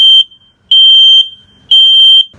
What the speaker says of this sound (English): we want to make sure that we're testing this, making sure that the carbon monoxide and the smoke function work